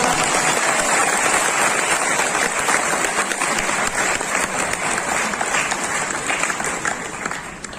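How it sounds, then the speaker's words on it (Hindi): An audience at a training seminar claps together, a loud, dense and sustained round of applause filling the room from start to finish. "तालियां बजाओ पहले एक बार।"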